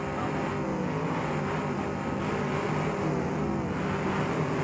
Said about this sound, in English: I'm sitting on rev limiter.